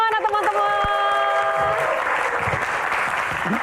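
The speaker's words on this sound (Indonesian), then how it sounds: "Tepuk tangannya mana teman-teman?" An audience claps to welcome comedians onto a stand-up stage, with a short burst of applause behind a host's voice.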